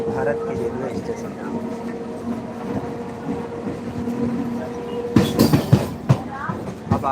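A local train runs on the tracks out of Sitamarhi, India, with a steady rumble and hum that turns into sharper clacking and rattling bursts near the end. Voices can be heard faintly in the carriage.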